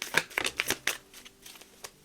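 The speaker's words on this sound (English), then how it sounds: "I apologize if the shuffling is a little slow." Tarot cards are shuffled slowly by cold hands: a quick run of crisp riffling flutters and soft slaps, close and clear, fading toward the end.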